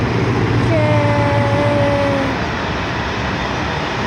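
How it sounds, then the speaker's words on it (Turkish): A train passes in snowy countryside near the Anadolu Tunnel in Turkey: a loud, steady rumble with a sustained horn-like tone in the first half, easing slightly as it continues. "Tren geçiyor."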